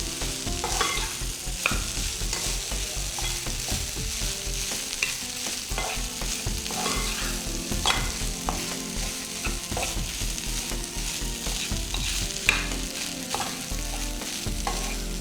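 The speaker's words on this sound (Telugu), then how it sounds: "ఇలా గరిటతో ఇట్లా చిదిమేసి మొత్తం కలిసేలా తిప్పేసేయండి." A ladle scrapes and stirs mango rice in a pan, mashing lumps as it mixes. The steady scraping and clinking sits over a continuous sizzle, close and fairly loud, with no voices.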